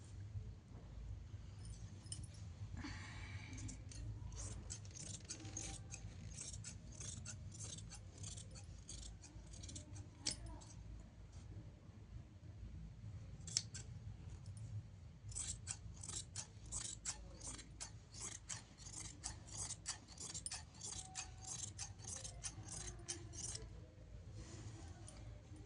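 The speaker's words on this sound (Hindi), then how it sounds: "अब इसकी कटिंग करेंगे, फिर इनको रख के फिर अस्तर पे करेंगे।" Scissors snip through cloth in rapid runs of crisp, metallic clicks, being used to cut lining fabric for trousers under a steady low background hum, with no talking.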